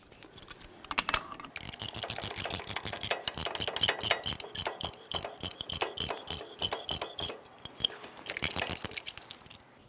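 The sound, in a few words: caliper compression tool squeezing brake caliper pistons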